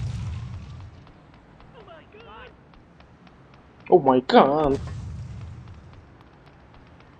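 Loud grenade explosions in GTA 2 boom over background music, with an excited voice shouting right alongside them, then a quieter stretch.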